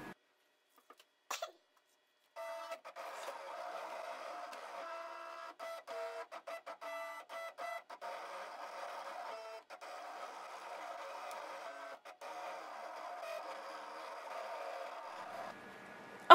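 Cricut cutting machine cutting out a design: a close, steady mechanical whirring that runs in stretches, broken by brief pauses and stop-start jolts, with a few sharp clicks at the outset.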